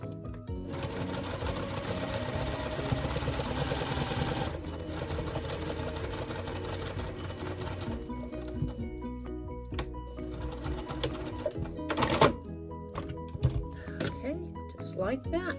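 Sewing machine stitching a quilt, a fast, continuous mechanical whirr that pauses briefly and then resumes, with a person talking over it.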